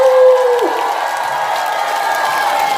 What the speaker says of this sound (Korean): 잘한다 싶으시면 박수!